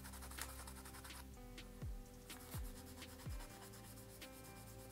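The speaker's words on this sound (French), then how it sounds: "Vous prenez votre bloc à poncer, pardon, et vous poncez la surface, vous allez poncer les deux surfaces" A sanding block worked back and forth over a brass surface during earring making, with a steady close scratchy rubbing in repeated strokes, moderately quiet and without speech.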